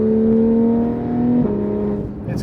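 A Porsche 911 GT3 RS 991.1 accelerates on a street with a short shift, a strong steady engine drone that drops in pitch at the gear change midway, then pulls on, loud and close.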